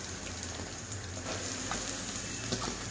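Onions frying in oil in a kadai, a soft continuous sizzle and crackle with occasional faint clicks, quiet and steady throughout with no voices.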